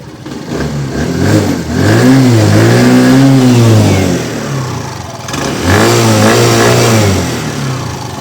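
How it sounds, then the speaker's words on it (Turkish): A Mondial Wing 80cc scooter engine revs up twice, climbing and falling in pitch, loud and close, with a rough idle between the blips. "Biraz da gaz vereyim size canavarı dinletmek için."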